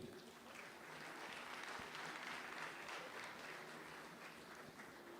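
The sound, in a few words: audience applause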